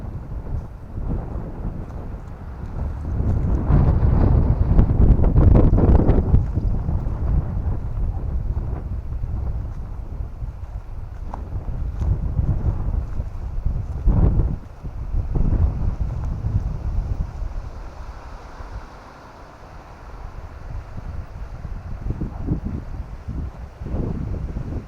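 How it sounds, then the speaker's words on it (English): Strong gusts of wind roar through the trees in a Kansas cemetery, rising and falling in heavy buffeting surges across the whole stretch, with loud rumbling blasts against the microphone and no talk. "You can see the wind whipping around the trees. Boy, howdy, there's a big gust of wind."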